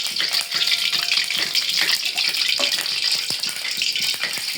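Potatoes frying in hot oil for Indonesian sambal goreng, a steady dense sizzle and crackle that holds loud and close for the whole stretch without pause.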